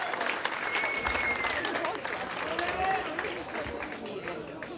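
Arena crowd applauding fighters at a Ministry of Fight MMA event in Banská Bystrica, with sustained dense clapping and cheering under a commentator's voice.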